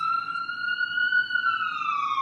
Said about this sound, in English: I think that siren was trying to play a song.